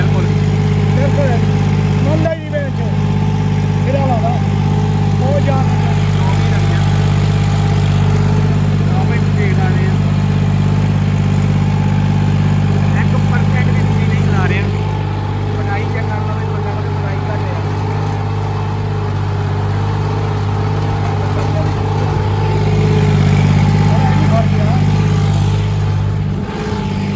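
A John Deere 5105 4WD tractor pulling a 24-disc harrow runs at 2100 rpm, a loud steady diesel drone with a deep constant hum throughout while people talk over it.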